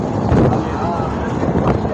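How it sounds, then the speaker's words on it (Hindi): Cool wind blowing hard across the microphone aboard a vessel crossing over a river, a steady close rush with low rumbling buffets throughout. "ठंडी हवा चल रही है"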